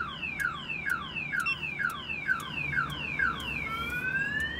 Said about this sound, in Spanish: La alarma se activa.